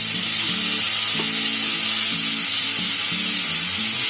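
Chopped onion fried golden, with one large tomato added, hisses and sizzles steadily in a pan for ragda chaat. The close, continuous frying noise runs throughout with a faint low tonal hum beneath.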